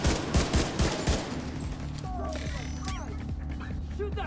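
Video game gunfire from The Division 2, a rapid burst of loud shots at the start followed by steady battle noise with voices and chatter layered over it.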